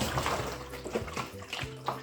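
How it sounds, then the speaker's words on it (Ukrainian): Water trickling and splashing in small irregular drips and dribbles from a leaking 25-litre plastic food barrel, close by, with a few faint bumps in the background. "Як бачите, вода починає капати з неї."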